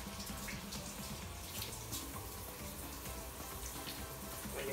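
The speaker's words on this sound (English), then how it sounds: "Wash my hands." Hands being washed under a running kitchen tap in a home kitchen, a steady broadband water rush and splatter that holds at an even level for several seconds without pauses.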